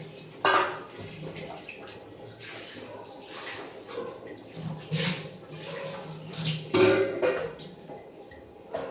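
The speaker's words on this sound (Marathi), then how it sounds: "पाणी फेकून देते." Water drained from soaked soybean chunks being poured away in a home kitchen: a few splashing, gurgling pours with soft drips between them, fairly close.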